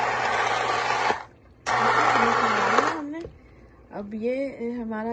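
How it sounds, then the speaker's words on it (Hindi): A blender blending haleem roars loudly in two bursts with a brief pause between, then stops as a person begins talking. "अब इस मरहले पे हम हल्का सा इसमें जो है ब्लेंडर चला देंगे"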